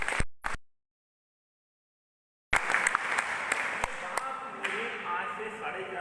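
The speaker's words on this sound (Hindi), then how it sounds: "एक बार जोरदार तालियां" An audience at a network marketing seminar bursts into clapping after a brief gap of silence, dense applause continuing at a steady level to the end, with a couple of sharp claps and taps standing out.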